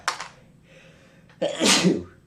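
A single loud sneeze with a sharp breathy burst, preceded by a short intake and small nasal sounds, heard close up with no talking.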